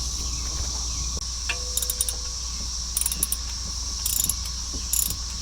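Mechanical clicking and ratcheting while the serpentine belt tensioner is removed from a 2015 Chrysler Town and Country, short bursts of metallic clicks repeating every second or so over a steady engine-bay hum, close and fairly clear.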